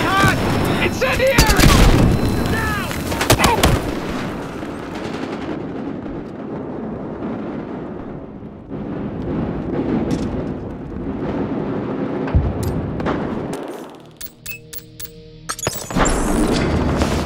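Frag grenades and gunfire in the game Battlefield Hardline: several loud booming blasts and bursts of shots crowd a busy, dense battle mix, with a quieter lull midway before more explosions.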